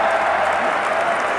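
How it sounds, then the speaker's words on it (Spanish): Dense audience clapping at a live festival comedy show, loud and continuous for a brief moment with crowd noise mixed in. "¡Aplausos!"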